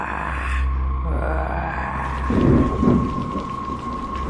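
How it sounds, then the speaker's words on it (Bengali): Rain pours over a graveyard, thickening into a heavier downpour, with a deep rumble of thunder rolling underneath and swelling midway. "ঝিরিঝিরি বৃষ্টি এখন কিছুটা জোরে পড়তে শুরু করেছে।"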